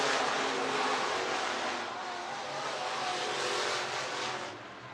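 Sport mod race cars roar along the back straightaway of a dirt speedway in Algona, Iowa, a loud engine drone that swells and fades slightly as the pack passes at a distance.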